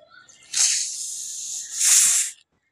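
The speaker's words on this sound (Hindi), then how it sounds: "इसको मैं ढक्कन को खोलता हूँ बहुत सख्त ढक्कन हो चुका है क्योंकि इसके अंदर बहुत ज़्यादा गैस भर चुकी है" Trapped fermentation gas hisses out in two strong bursts as the tight lid of a homemade bio enzyme container is twisted open, loud and close, then cuts off.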